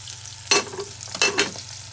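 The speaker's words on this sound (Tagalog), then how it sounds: "Prito na ako ng tuyo." Dried fish (tuyo) frying in hot oil gives two short bursts of crackling sizzle with quiet gaps between them and no talking.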